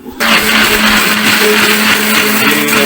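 An electric grinder blends tomatoes, green chilies and two browned onions for egg korma, a loud steady whirring motor that starts abruptly and runs without pause.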